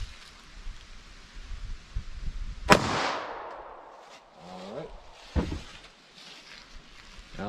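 A 9mm Fiocchi Defense Dynamic round fired into clear ballistics gel, one sharp loud gunshot with a ringing decay, followed by faint handling noises.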